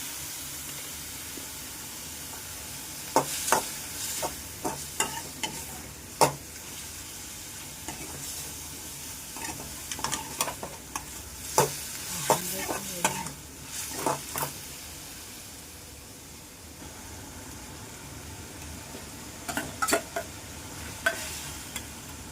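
Prawns in masala are stirred in a frying pan over a steady low hiss of frying, with repeated spoon scrapes and clinks on the pan that come in irregular clusters.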